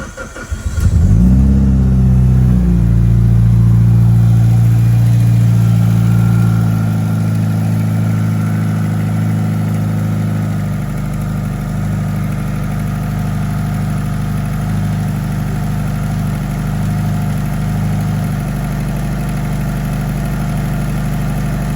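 A Mitsubishi Evo 9 engine cranks and fires, flares briefly, then settles into a loud, steady close-up idle that continues to the end.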